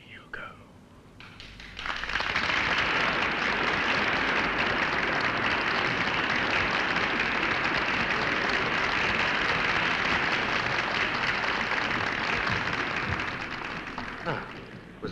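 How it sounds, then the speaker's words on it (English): Theatre audience applause erupting after a short quiet start, a sustained dense roar of clapping that holds steady and then tapers off near the end. "Listen to the audience applaud."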